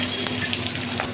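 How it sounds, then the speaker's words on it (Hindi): Onions fry in a pan until lightly browned, giving a soft, continuous crackling sizzle with a few small pops over a brief moment. "प्याज से हल्का ब्राउन होके तक ले भून"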